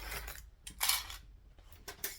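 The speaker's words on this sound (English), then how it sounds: "some scissors and just chop off the excess like that" Scissors snipping off excess fabric at a sewing table, a few short metallic cuts in quick succession, close and fairly quiet, with brief bursts of crisp blade noise separated by near silence.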